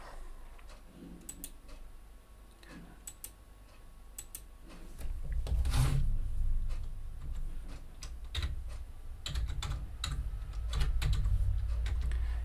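Someone types code on a computer keyboard, with steady bursts of quiet key clicks running throughout and a low background hum rising partway through.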